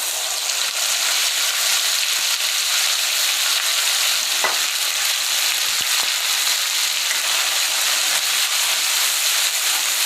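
Whole spices sizzling in hot oil for butter paneer masala, a loud steady hiss and crackle with a couple of sharp pops, close and uninterrupted, no talk.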